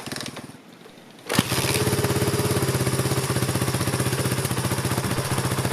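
A Suzuki DR350SE motorcycle engine, its carburetor freshly rebuilt, starts after a quiet moment and settles into a steady, rhythmic single-cylinder idle, loud and close.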